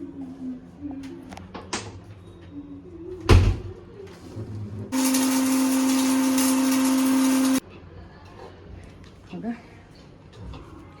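A kitchen mixer grinder runs loud and steady for about three seconds, grinding black pepper into powder, with a strong hum and whirring noise, amid quieter household sounds before and after.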